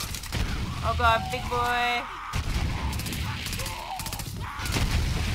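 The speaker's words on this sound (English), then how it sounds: "Who is shooting me?" Gunfire in Borderlands 3 played as Moze, dense shots and booms rolling under a player's spoken reactions, with a loud burst near the start and steady firing throughout.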